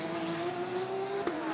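GT race cars brake hard into the Lisboa corner on the Macau street circuit, a steady high engine drone with a brief sharp squeal of tires near the end, no voices.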